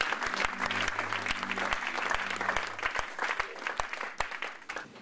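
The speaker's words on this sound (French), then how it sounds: "Est-ce que nous pouvons acclamer très fort?" A church congregation claps and cheers loudly during a French-language worship service, with steady dense applause and sharp rhythmic claps. A low sustained organ-like tone sits under it at first.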